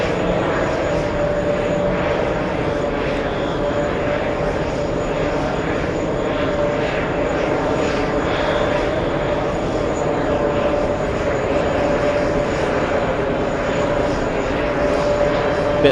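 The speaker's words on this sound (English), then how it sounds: "Another close-up arrival. Delta 884 coming in from Phoenix on the" Delta Airbus A321neo arriving close by at JFK airport, a loud, steady jet roar with a sustained engine whine that holds throughout, no pause or fade.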